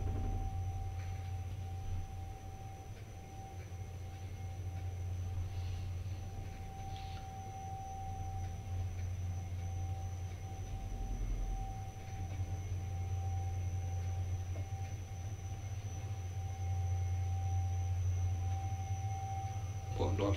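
A steady, fairly faint drone from the traction motor of an old General Lift Company express lift, with a constant mid-pitched whine held over a low rumble that continues unbroken throughout.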